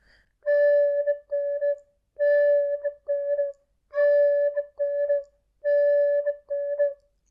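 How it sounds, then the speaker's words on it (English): A tin whistle plays short, breathy notes tongued with a whispered articulation in four repeated groups, each a long note followed by a shorter one, clear and close with no voices. "you can actually make those sounds into the whistle"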